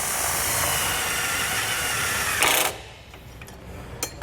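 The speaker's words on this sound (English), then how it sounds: "I'll use the included self-tapping screws to screw it directly to the bumper" A power driver spinning a self-tapping screw into a trailer bumper, a steady close whirring drone that cuts off abruptly, followed by quieter handling clicks.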